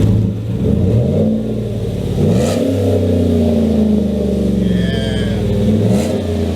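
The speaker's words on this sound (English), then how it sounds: "You gotta love the pure American sound of a truck, Woo, especially yeah. with an aftermarket exhaust." GMC Sierra Black Widow pickup truck revving through a Gibson aftermarket exhaust, a deep loud growl climbing and falling in a few throttle blips close by, with no talk over it.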